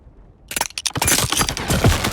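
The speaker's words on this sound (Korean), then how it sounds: "그런데 그만 얼음이 깨지며 메르세데스가 강물에 빠지게 되는데요." Ice cracks and breaks apart on a frozen river in a film scene set in the Alaskan wild, a sudden loud burst of splintering cracks after near silence, followed by continued crunching and shattering.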